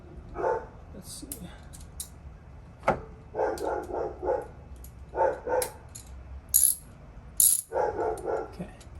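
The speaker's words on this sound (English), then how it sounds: "Sorry if the dog's barking is really loud." A dog barks in repeated short bursts nearby in a garage during work on a 1986 Toyota MR2, with clattering tool and part noises between the barks.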